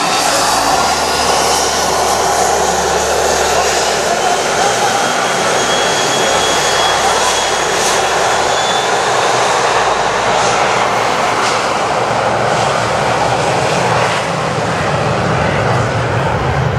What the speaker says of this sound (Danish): selv de store 747, de nærmest hiver solhatten af badegæsterne under landing